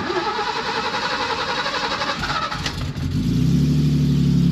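BMW E30 320 running on ethanol fuel, its starter cranking loudly in a fast chugging rhythm before the engine catches and settles into a steady idle, close by with no voices.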